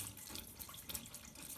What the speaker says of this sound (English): That water running is from an upstairs flat where obviously the overflow in their WC, I would think, is probably running constantly.